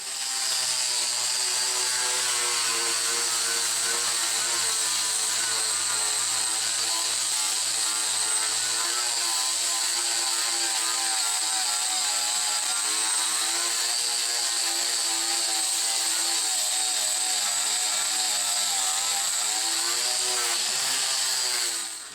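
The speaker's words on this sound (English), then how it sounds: "I'm actually doing the edge on the belt sander so that way I don't have to try to hold it up" Belt sander grinding heavy mill scale off a steel edge, a steady loud whining grind with a high-pitched tone that holds for the whole stretch, alone without talk.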